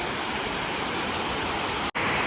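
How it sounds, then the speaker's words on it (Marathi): Overflow from Vihar Lake in Powai, Mumbai, pouring down a spillway as a steady, loud hiss of rushing water with a brief dropout near the end. "हे पाणी पूर्ण असं खाली इकडून येतं आणि तिथे खाली जातं"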